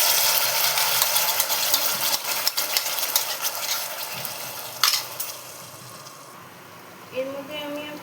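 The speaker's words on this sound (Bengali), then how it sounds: "রসুনটা হালকা ভাজা হয়ে গেছে, এবার আমি টমেটোটা দিয়ে দেবো।" Tomatoes tipped into a pan of lightly fried garlic for a tomato-garlic chutney, giving a steady close sizzle with stirring and rattling that softens toward the end.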